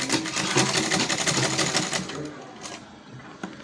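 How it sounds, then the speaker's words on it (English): A manual Butterfly sewing machine runs steadily, stitching the lining strap of a ladies' handbag with a fast, even mechanical chatter that slows and stops near the end, close and fairly quiet with no talk. "We are sewing the lining strap now."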